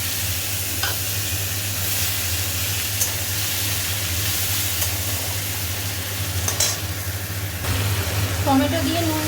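Onion drops into hot oil already holding whole cardamom, cinnamon, cumin and bay leaf, sending up a loud, steady sizzle with stirring scrapes, and a brief voice near the end.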